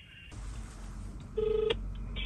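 Telephone keypad tones dial out to call a police station, a run of short beeps followed by a longer steady tone, quiet and close with no talking.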